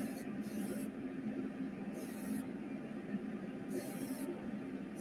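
Short hissing bursts of a spray gun applying clear coat to a car hood come in three separate passes over a steady low background hum, each spray lasting about half a second.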